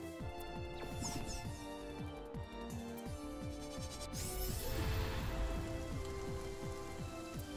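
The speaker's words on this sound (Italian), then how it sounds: "Metti un po' di pioggia." The rain move effect from the video game Coromon plays as a steady, dense patter of falling rain with scattered droplet splashes, lasting several seconds without pause.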